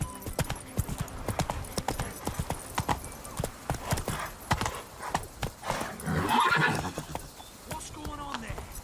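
Roach, a horse in The Witcher 3, gallops with rapid rhythmic hoofbeats, close and loud, broken by a neigh near the middle, with quiet game ambience underneath.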